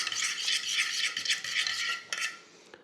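Gelatin is stirred into a raspberry sauce for a cheesecake topping, making a close, continuous brisk scraping of utensil on bowl that eases off at the end.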